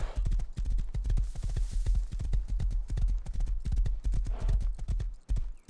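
Horse hooves clip-clop steadily in a video game, a fast, even run of sharp, close hoofbeats lasting several seconds, with a brief neigh-like swell partway through and no talking.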